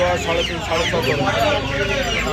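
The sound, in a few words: Chinese chicken chicks clucking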